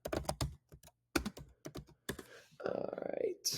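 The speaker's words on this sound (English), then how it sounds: "If I can type." Quick bursts of typing on a computer keyboard, clustered clicks with brief pauses, close to the microphone, ending with a rapid run of keystrokes.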